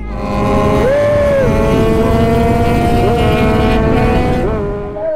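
A Honda CBR600RR motorcycle engine runs up close and loud, idling with a strong harmonic drone and rising in several quick throttle blips that swell and fall back.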